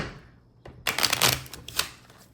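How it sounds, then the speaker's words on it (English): Tarot cards riffle and slap together in a quick shuffle, a few crisp bursts of papery flutter close by with no talking. "We'll just shuffle like this."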